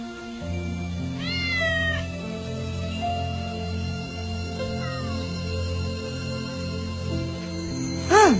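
A cat meows several times in rising, drawn-out cries, with a louder, sharper yowl near the end over a steady background hum.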